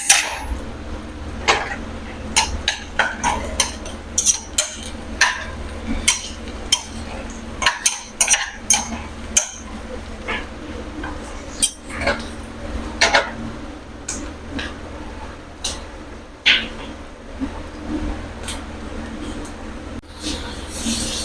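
Garlic stirred and sautéed in a pan after onions, for chicken pastil, with irregular clinks and scrapes of a utensil against the pan over a low continuous hiss, close and moderately loud throughout.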